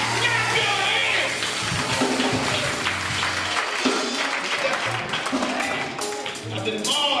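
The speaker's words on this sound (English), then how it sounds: "Clap your hands." A church congregation claps along during a Baptist service, steady clapping continuous under singing voices and music, fairly loud and close throughout.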